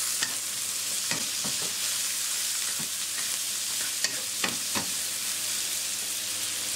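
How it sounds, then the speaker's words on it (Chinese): Chili peppers stir-fried in a hot pan with salt, pepper and sugar, a continuous sizzle broken by repeated scraping strokes of the spatula at an uneven pace. "继续翻炒。"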